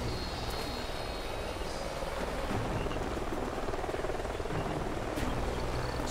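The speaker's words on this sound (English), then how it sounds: "Sounds like a chopper's up ahead of us." In the video game Call of Duty: Ghosts, a helicopter flies overhead, its rotor and engine making a continuous broadband drone that stays steady and moderately distant throughout.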